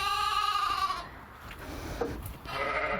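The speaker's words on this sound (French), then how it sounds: "Ça c'est une brebis que je vais rentrer aujourd'hui, qui doit mettre bas demain." A ewe bleats loudly and close in a sheepfold, a pregnant animal due to give birth, with one long wavering call, a pause of livestock and shuffling noise, then another bleat starting at the end.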